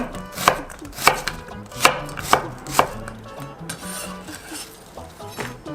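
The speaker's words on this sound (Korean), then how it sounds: "양파 그냥 채 썰어도 돼요" A knife chops an onion into thin strips on a cutting board for a Korean cheonggukjang stew, with several sharp close chops and quieter knife taps and scrapes in between.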